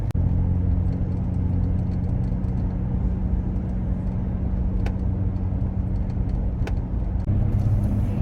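A Jeep climbs a canyon road with a steady, close interior rumble of engine and tires, a continuous drone with occasional small knocks and no talking.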